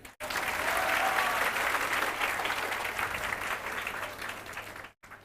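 Audience at a coaching-academy orientation event breaks into sustained applause that holds steady for about five seconds, then cuts off abruptly.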